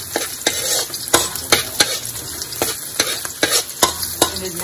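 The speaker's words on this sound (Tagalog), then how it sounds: "igigisa na natin ang ating bawang sibuyas." Garlic and onion sizzle in a hot pan while being stirred for kaldereta, a steady frying hiss broken by repeated sharp scrapes and taps of a utensil, close and clear with no talk.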